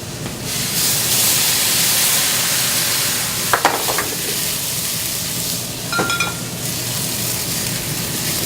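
Mushrooms sizzling in a hot pan in a restaurant kitchen, a loud steady hiss with a couple of brief clinks or stirs, close and without talking.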